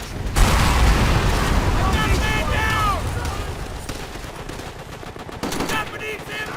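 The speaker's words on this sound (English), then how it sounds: "We're pinned down by the MG fire from the 2nd floor!" Machine gun fire fills a Call of Duty: World at War battle, fired from the second floor of a building at pinned-down troops. Rapid bursts and scattered shots crackle amid battle noise, with a voice shouting over the din.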